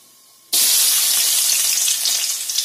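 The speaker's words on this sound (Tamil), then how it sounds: "வெங்காயம் வந்து நல்லா ப்ரௌன் கலர்ல வதங்கணும்." Finely chopped small and large onions hit hot oil in a pan for a chicken fry and gravy, giving a sudden loud burst of sizzling that holds as a steady, close crackle and hiss.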